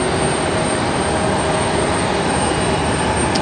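An airliner at LaGuardia rolls onto the runway in a heavy rainstorm, a loud, continuous broadband engine roar that holds steady throughout without pause.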